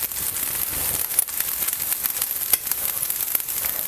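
Sabudana appe roast in an appe pan with a continuous close hiss of frying, dotted with small crackles and light clicks.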